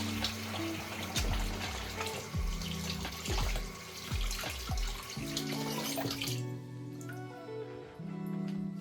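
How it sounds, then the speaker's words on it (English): Hands being rinsed under a running kitchen tap while cooking Jamaican brown stew chicken, a steady close rush of water with splashes and shifting gurgles as the hands move through the stream, fairly quiet, with no talking. "let me just rinse off my hands a little bit."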